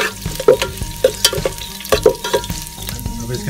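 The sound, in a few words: onion and garlic frying in hot oil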